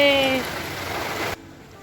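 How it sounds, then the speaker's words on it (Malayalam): Heavy rain pours in a dense hiss, briefly under a voice at the start, then cuts off abruptly to near quiet. "നല്ല പോലെ മഴ പെയ്യുന്നുണ്ട്"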